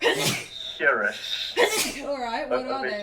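A single sharp sneeze bursts out early, amid people chatting and bantering during a casual tabletop role-playing session.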